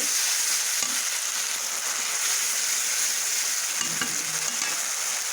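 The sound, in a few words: tomato puree frying with ground onion, chilli, ginger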